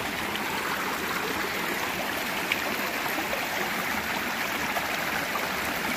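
A stream flows steadily at a hiking trail crossing in the Smokies, its broad, constant rush of water close by and unbroken, with no voices over it.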